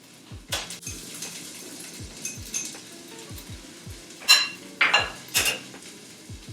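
Chopped green chilies and finely chopped onion go into a pan of curry mixture, with clinks and scrapes of a utensil against the pan, several sharper clatters near the end and a faint sizzle underneath.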